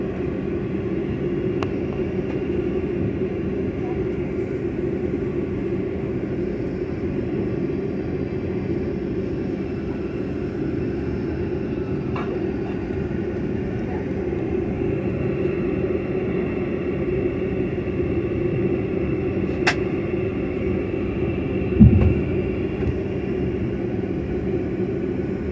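Steady low engine drone and airflow rumble fill the cabin of a Mitsubishi CRJ-200LR regional jet in flight from Minneapolis to Rochester, constant and unbroken, with a faint brief chime.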